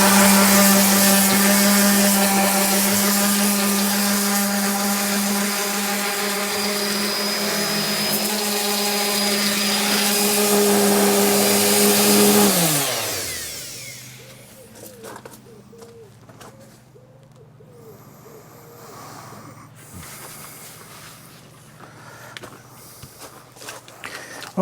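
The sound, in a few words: rough sanding of boat outdrives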